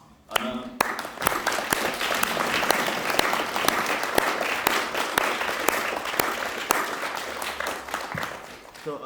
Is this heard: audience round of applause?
yes